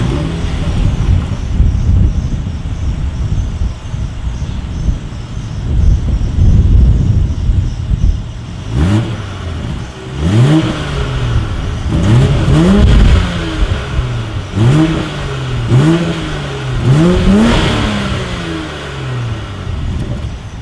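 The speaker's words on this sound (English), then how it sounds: "As always, here is that exhaust clip." A 2020 BMW X5 exhaust idles under wind noise, then the engine is revved several times in quick rising-and-falling bursts, loud and close.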